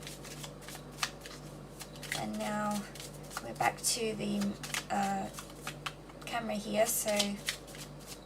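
Tarot deck shuffled by hand during a live card reading, with rapid riffling and flicking bursts that come in clusters under a person talking.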